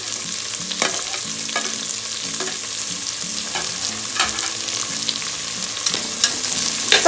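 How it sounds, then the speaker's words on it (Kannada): Capsicum frying and being stirred in a pan while making tomato bath, a steady close sizzle broken by repeated scraping strokes of the spoon, with no talking. "ನೆಕ್ಸ್ಟ್ ದಪ್ಪ ಮೆಣಸಿನ್ಕಾಯಿ ಹಾಕೊಳ್ತಾ ಇದ್ದೀವಿ."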